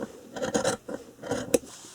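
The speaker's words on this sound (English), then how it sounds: "So I thought I would just cut this so you guys could see. You just trim it." Scissors trim a loose string on a fabric journal cover, giving a few close, crisp snips in two short bursts, the last one a sharp click.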